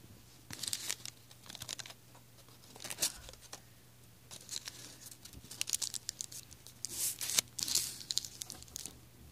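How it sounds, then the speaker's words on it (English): Paper crinkles and crunches in repeated bursts close by, irregular handling with crisp tearing-like rustles and short pauses between. "Sorry for the paper crunching sounds."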